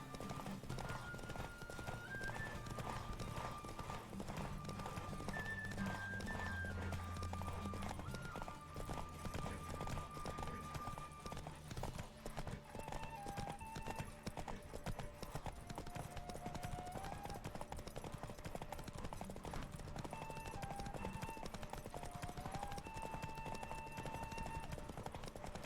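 Horse hooves gallop in a steady, rapid clip-clop during a race in The Witcher 3, close and continuous under tuneful game music, with an occasional whinny.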